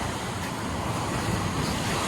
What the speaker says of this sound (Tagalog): Kasi dito po, mas malakas po yung alon.